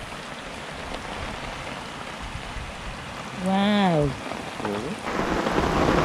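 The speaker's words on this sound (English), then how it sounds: "Now it's raining." Rain hisses steadily outdoors beside a fast-flowing river during a thunderstorm, a close, continuous wash of noise, while a person gives a short exclamation partway through.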